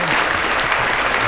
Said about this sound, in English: let's have the clap